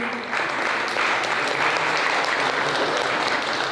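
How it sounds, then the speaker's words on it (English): A steady round of audience applause for three beverage company founders fills the room at an even, sustained level, with a faint voice briefly audible. "Let's give a round of applause for them, please."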